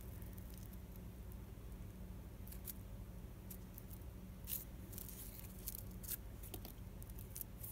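Scissors snip through layered crepe paper held together, giving faint, scattered crisp cuts over a steady low background hum, close but quiet, with no talk.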